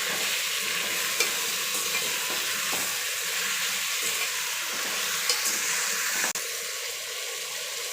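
Ginger garlic paste sizzles steadily in a hot pan for a vegetable biryani while a utensil stirs and scrapes through it, with a few sharp clinks against the pan.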